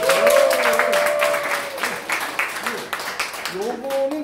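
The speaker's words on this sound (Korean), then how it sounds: "박수 주자." A small audience at a teacher training session gives a brief round of clapping, scattered and fairly close, mixed with voices speaking over it.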